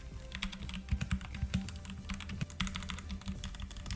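Gentle typing on a Redragon K552RGB Kumara mechanical keyboard with red switches, a quick, irregular patter of soft close-up keystrokes with no talking.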